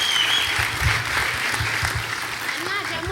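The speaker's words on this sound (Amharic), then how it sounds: "አጨብጭቡ ለጌታ" A church congregation clapping for the Lord, with a steady wash of applause at moderate level under a voice speaking.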